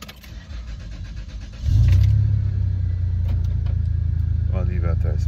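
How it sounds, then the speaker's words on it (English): A car engine cranks and catches, then settles into a steady low rumbling idle close by, with a voice speaking briefly over the running engine near the end. "Turn my car on."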